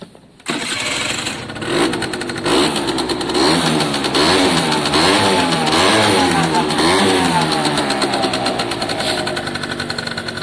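A small Italjet Formula 50cc scooter engine snarls close by, its revs rising and falling in quick throttle blips over a steady buzzing idle.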